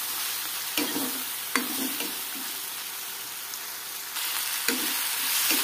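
Chopped tomatoes frying in a pan with Maggi noodles, a steady sizzle broken by several scraping stirs of a utensil, close and without speech.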